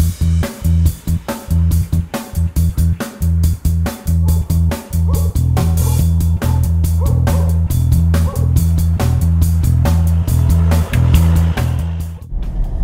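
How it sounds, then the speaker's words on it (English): A Volvo XC60 diesel engine hums loudly and steadily while the car accelerates on the road. Its low drone stays strong and even through most of the stretch, with brief dips near the start. "the sound once you start accelerating is actually quite lovely. It's nothing like that normal chugging diesel engine that we're used to."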